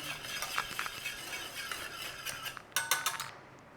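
Whisk stirring a pepper-seasoned sauce for leftover corned beef in a pan, giving a steady scraping swish with light metallic clinks that grow sharper and more clustered near the end.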